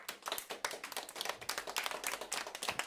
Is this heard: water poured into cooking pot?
no